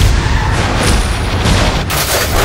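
Heavy gunfire and explosions in a war film trailer, a dense loud roar of booming blasts and rattling fire with no gaps, close and overwhelming.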